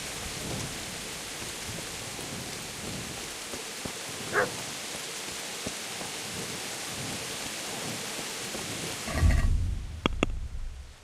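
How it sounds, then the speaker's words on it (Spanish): Steady heavy rain falls in medieval Kingdom Come: Deliverance, with a rumble of thunder near the start, a dog barking a few times, and a sharp close clatter near the end. "Perro."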